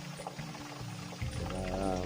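Water pours and trickles into a tub set out to catch a leak, a close, steady flow that rises in pitch as the container fills, with faint speech in the background.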